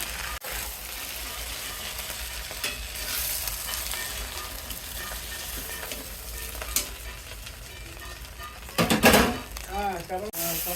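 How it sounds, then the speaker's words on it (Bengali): Fish frying lightly in mustard oil in a home kitchen gives a steady soft sizzle throughout, with brief stirring and scraping sounds and a louder clatter near the end, while a voice talks in the background. "শুক্রবারে নি প্রতিটি মাছ হালকা করে ভেজে নিচ্ছে"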